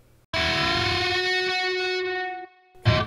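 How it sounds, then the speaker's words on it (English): Distorted electric guitar plays a riff, strumming two strings together while bending the third string; a loud sustained chord rings for about two seconds, cuts off, then a short second strum follows. "you're going to bend that 3rd string clear over like this."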